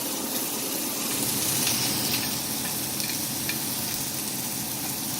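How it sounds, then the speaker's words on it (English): Finely chopped onions fry in olive oil in a vegetable cooking setting, giving a steady, close sizzle with dense crackling that runs unbroken throughout and has no voices over it. "I like to cook my onions in the olive oil a bit first."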